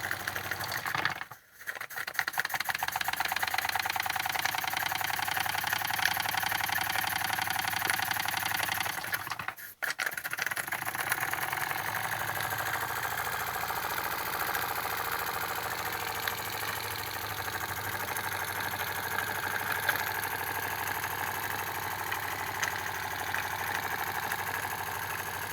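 A Jensen #55 brass-tag live steam engine with a riveted boiler runs with a fast, steady mechanical chatter, close and continuous, with two brief dips in the sound near the start.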